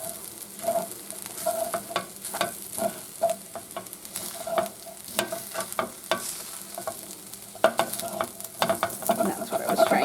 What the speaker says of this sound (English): let's see if we can stir this all up now.